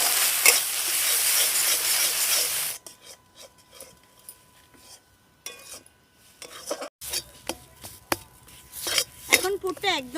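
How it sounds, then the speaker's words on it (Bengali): A spiced bean filling with turmeric, salt and coriander powder for kochuri fries in a pan, starting with a loud sizzle that cuts off, then scattered spoon scrapes and clinks against the pan. "এবার খুব ভালোভাবে কষিয়ে নেব।"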